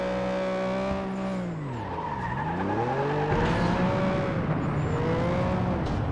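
Car tires squealing under heavy braking in the FlatOut 2 racing game, a loud sliding screech that bends in pitch over and over, with engine noise running underneath throughout.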